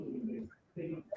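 Pigeon or dove coos outside, two short soft cooing phrases close together, faint and low, with a brief higher chirp at the end.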